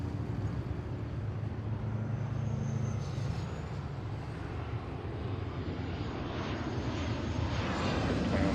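An airliner on final approach to runway 34L at Seattle-Tacoma airport, its engines making a steady, broad roar that swells slightly as it draws nearer, heard outdoors with a continuous rumble.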